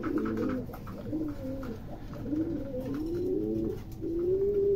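Fancy pigeons at a pigeon farm coo repeatedly in soft, rolling, throaty calls, close by against a steady background hiss, with no one speaking.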